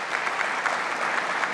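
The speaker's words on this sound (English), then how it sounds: "Let's give them a round of applause." A seated audience claps steadily for a mayor and his team at a state budget announcement in Western New York, with dense, even applause and no voices over it.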